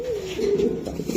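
A deep-colored grizzle Afshan pigeon gives a soft, close, low throaty coo, one continuous warbling call filling the short moment.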